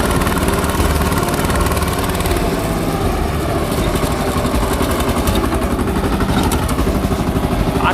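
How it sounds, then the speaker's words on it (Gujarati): A tractor pulling a rotavator works through a farm field to clear weeds and turn the soil. Its engine drones loud and close in a continuous, evenly pulsing roar with no let-up and no talking. "ચાલો, આ રીતે ટ્રેક્ટર ચાલે,"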